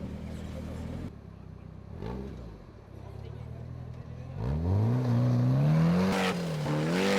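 Off-road vehicle driving through sand at a Wings and Wheels 2019 event, engine droning and revving up with rising pitch, close and loud, while people talk and a crowd murmurs in the background.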